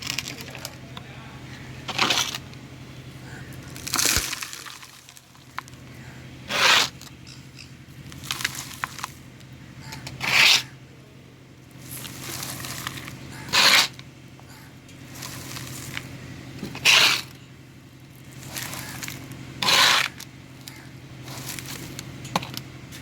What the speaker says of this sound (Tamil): இப்போ நம்ம மண்கலவையை போட்டுடலாம்